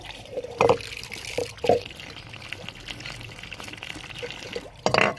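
Water is poured from a container onto plants in a few short splashing bursts with trickling between, close and moderately quiet against a low background.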